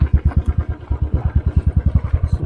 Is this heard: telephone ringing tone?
no